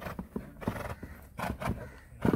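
A horse in training moves nearby, hooves clip-clopping in an uneven rhythm with snorts and a short whinny mixed in, fairly quiet and with no talk over it.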